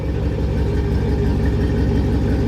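A pickup truck's engine idles with a steady, deep, throbbing rumble heard from inside the cab. The drone is even and continuous, with no speech over it.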